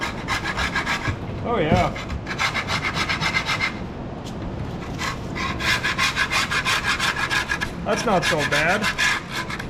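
Hand scraper dragged in repeated rough strokes over a surface while a 1980 Pontiac Trans Am 301 engine is being swapped, close, steady scraping bursts in short bouts with a brief spoken comment between them.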